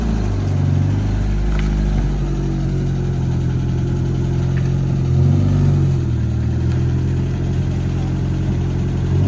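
A Renault 5-based rally car engine, not fully warmed up, runs with a deep, steady burble and gentle rises in revs, close and loud, with no talk.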